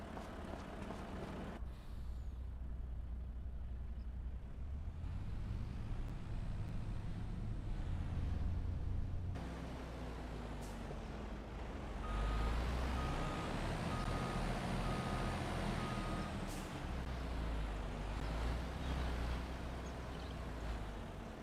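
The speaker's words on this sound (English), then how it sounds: "I think we're gonna move the truck a bit here." A truck in the video game Farming Simulator 25 moving and reversing, with a steady engine drone, an air brake hiss and a repeated reversing beep over a long stretch.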